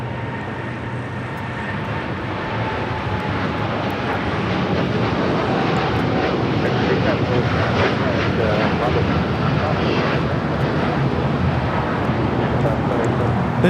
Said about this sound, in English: His takeoff is United Airlines Flight 39, taking off to Tokyo Haneda on a 787-10 Dreamliner